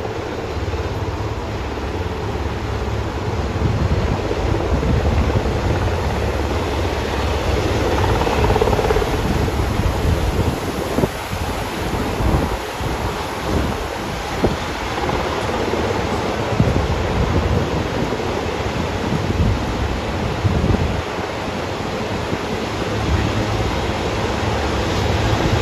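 The Marine Two helicopter lifts off outdoors, a steady broad rotor and engine roar mixed with wind buffeting the microphone, continuous and fairly loud throughout.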